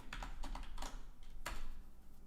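Quick bursts of typing on a computer keyboard during a live hacking session, a few clustered keystrokes then a firmer tap, close and fairly quiet over a low background hum.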